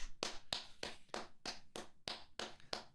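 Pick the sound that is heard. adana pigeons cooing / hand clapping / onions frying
hand clapping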